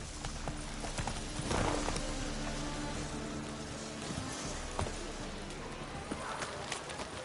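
A horse galloping in The Witcher 3, rapid rhythmic hoofbeats running continuously under game sound, with a voice speaking briefly.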